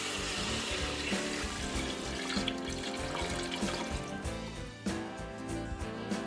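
Milk poured into a pan of carrots, onions and flour, a steady close liquid pouring and splashing stream lasting throughout, no talking.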